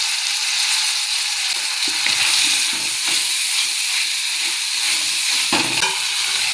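Tomatoes and turmeric powder fry in a pan with sautéed brinjal for a village-style dry fish curry: a loud, continuous sizzle broken by the scrapes and knocks of stirring.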